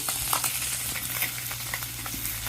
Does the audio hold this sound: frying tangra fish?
yes